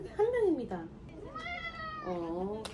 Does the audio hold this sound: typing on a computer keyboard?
no